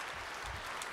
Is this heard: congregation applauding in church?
yes